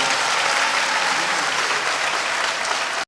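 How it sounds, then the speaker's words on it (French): A crowd applauds at a ceremony where a presidential election candidate is invested, giving a dense, continuous burst of clapping that holds steady for about three seconds and then stops abruptly. "Merci de les applaudir."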